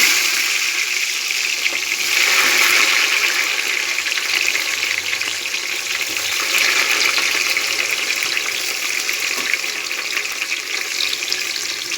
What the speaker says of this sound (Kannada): ಎಣ್ಣೆ ಕಾದಿದೆ. ಈಗ ನೋಡಿ, ನಾನು ಅನ್ನದೆಲೆ ಹಾಕ್ತೀನಿ. ನೋಡಿ, ಈರುಳ್ಳಿ ಹಾಕ್ತೀನಿ.